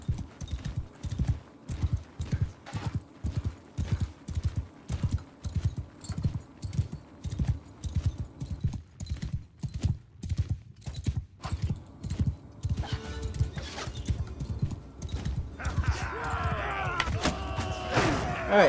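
A horse gallops in the Mount & Blade II: Bannerlord video game, its hooves striking in a fast, steady clip-clop that runs throughout, with a brief burst of clatter and noise near the end.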